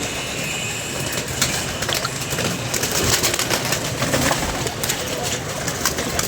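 A desi pigeon coos repeatedly in a soft, low rhythm over an outdoor noise bed of rustling and shuffling, with some voices in the background.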